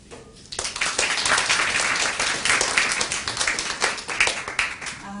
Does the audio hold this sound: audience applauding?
yes